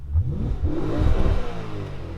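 Audi RS4 Avant estate in dynamic mode with its exhaust valves open, revving hard up close; a loud, continuous deep engine roar rises and falls in rough pulses across the whole stretch, with no talking.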